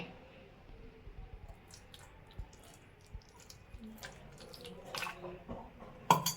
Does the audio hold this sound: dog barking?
no